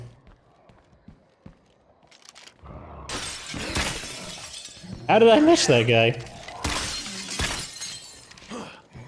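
Glass shatters from gunfire in a survival shooter video game, a loud crashing burst of breaking shards mid-clip amid scattered clinks and footsteps, with someone talking over it.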